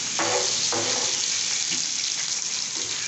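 Chopsuey ingredients sizzle steadily in a frying pan, a dense continuous hiss with a few faint scrapes and stirs, close and alone without talk.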